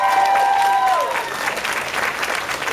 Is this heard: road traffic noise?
no